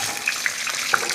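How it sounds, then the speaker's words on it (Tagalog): Water pours from a tap into a cooking pot of carrots, potatoes, ginger, tomato and garlic, a steady broad splashing stream with a few brighter splashes, close and moderately loud, no talk. "Lagyan natin yung konting tubig lang."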